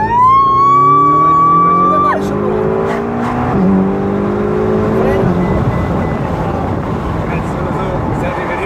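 A Ferrari sports car accelerating hard at full throttle, its loud engine note climbing steeply through a gear before a shift and a second, lower rising pull, then fading into road roar as a voice talks over it.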